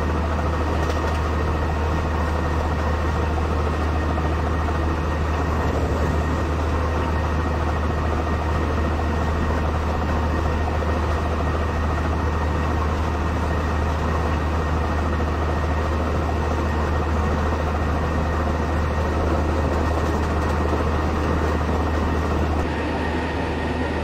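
A Shatabdi Express in a train simulator game rolls at full speed, giving a steady, loud rumbling drone with a deep low hum that holds unbroken throughout.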